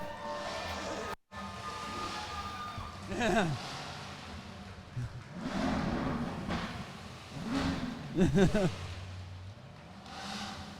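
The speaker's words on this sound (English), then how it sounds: "rev them up, guys. Let's hear it." Several Chevrolet Corvette C8s rev their engines at an outdoor award ceremony, with repeated rising and falling revs, two strong bursts standing out, amid crowd noise and some talking.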